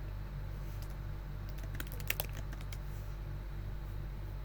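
Soft keystrokes clatter on a computer keyboard in a short burst, faint and quick, over a low steady hum of room or computer noise.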